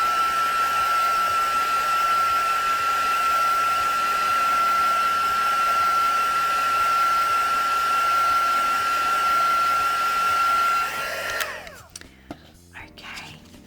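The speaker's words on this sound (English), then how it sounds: "Let's give that a little bit of a heat set or dry with the heat gun" Steady, close, loud whoosh of a heat gun drying brayered ink on a gel plate, with a high whine that runs for about eleven seconds before cutting off into faint clicks and handling.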